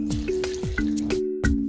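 Coconut water pours into a blender for a pineapple and mango smoothie, making close dripping, trickling liquid sounds with a few distinct drop-like plinks alone.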